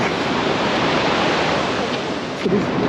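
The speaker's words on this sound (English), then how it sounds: "Nothing like the sound of the ocean, man." Steady ocean surf rolls and washes at Torrey Pines State Beach in San Diego, a continuous broadband roar with some wind buffeting the microphone and no clear voices.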